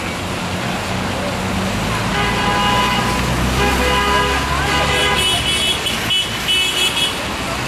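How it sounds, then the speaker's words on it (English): Passing cars on a Portland street honk their horns repeatedly during a protest, with toots layered over steady traffic rumble and crowd noise, fairly loud and continuous. "Got the city of Portland honking and waving at us."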